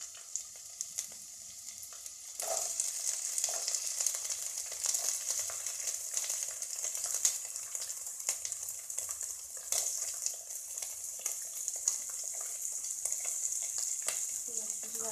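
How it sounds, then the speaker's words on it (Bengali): Chopped onion hits hot oil in a pan and sets off a loud, steady sizzle that carries on without a break, with faint clinks of a spoon stirring now and then. "এবার আমি এতে পেঁয়াজ কুচিটা অ্যাড করছি।"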